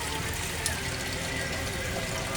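A running filtration system on a koi fish pond fitted with a UV light gives a continuous close hiss and splash of flowing water, with a faint voice underneath.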